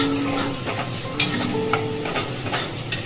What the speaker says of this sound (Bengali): মশলাটা আমার ভালো করে কষানো চলছে